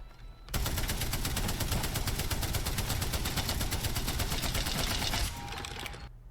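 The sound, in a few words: Spitfire machine gun firing in a video game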